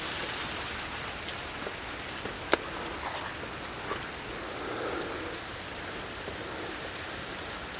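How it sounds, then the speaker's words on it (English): Sleet and heavy rain fall during a cold winter storm at Jekyll Island, a dense steady hiss of drops with a few sharp ticks and taps of ice hitting nearby surfaces, with no talking. "It's sleeting and raining pretty hard currently."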